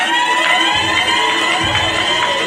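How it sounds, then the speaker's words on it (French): An audience at a school competition final cheers and applauds after a 180-point score, a dense, loud, continuous roar of crowd noise with shouting voices and no break. "Bravo, les applaudissements, 180 points par Didier."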